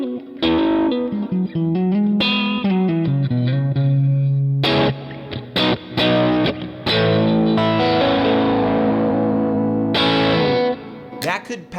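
An electric guitar plays through an amp set to an edge-of-breakup tone, mixing strummed chords and single-note runs that are loud, slightly gritty and roomy, with no voices.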